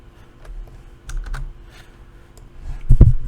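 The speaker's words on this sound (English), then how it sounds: "lastly we type in the IP address of the machine" A few scattered, close keystrokes on a computer keyboard as an IP address is entered, with a louder thump near the end and no talk.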